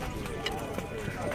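A large horse is led around at a horse fair in Campina Grande, its hooves tapping out an irregular clip-clop under close, continuous talk.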